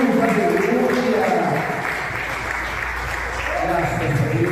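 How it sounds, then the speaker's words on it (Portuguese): A church congregation applauds loudly and continuously, a dense wash of clapping with voices talking and calling out over it throughout. "Agora eu convido toda a igreja a aplaudir bem forte ao Senhor Jesus."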